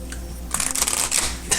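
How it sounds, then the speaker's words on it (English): A tarot and oracle deck being shuffled in a brief, close papery flutter of a few quick riffles. "Guess I'm not supposed to shuffle."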